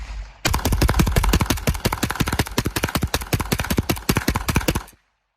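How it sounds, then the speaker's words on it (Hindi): A 9mm Kalashnikov rifle empties a magazine of about twenty rounds on full auto, one loud, close, rapid unbroken burst of evenly spaced shots lasting several seconds before stopping abruptly. "पूरा मैगजीन आपके सामने फायर किया"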